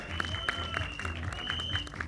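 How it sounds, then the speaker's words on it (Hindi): An audience at a Bollywood film trailer launch applauds an actor with a steady, moderate patter of clapping over a faint music bed, with soft sharp claps picked out at intervals. "उनके लिए जोरदार तालियां हो जाएं।"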